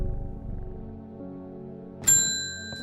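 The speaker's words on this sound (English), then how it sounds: "I don't like that the bell scares the cat." A shop bell rings once in the video game Strange Horticulture, a bright metallic ding that rings out and decays slowly after a soft, low ambient tone.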